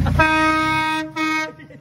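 A custom air horn mounted on a car sounds one loud, bright, chord-like toot that lasts about a second, cuts out for a moment, then blasts again briefly before stopping.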